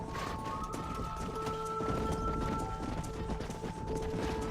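Hooves clip-clop steadily while herding cattle in Red Dead Redemption, over a dense bed of game ambience, with faint tonal hums running underneath.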